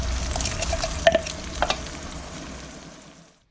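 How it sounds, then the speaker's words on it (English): Blended onion paste frying in a pan for a spicy spinach sauce, a steady close sizzle with a few sharp stirring scrapes partway through before it fades out. "And I'm just going to fry those off just for a minute or two."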